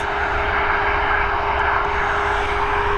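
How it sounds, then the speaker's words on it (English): A three-year-old Boeing 737 MAX jet at Dublin Airport produces a loud, steady engine roar with a sustained whine, continuous and unbroken, with no voices. "Next up, we've got this 737 MAX heading over to Bristol, 3 years old, registered in October of 2019."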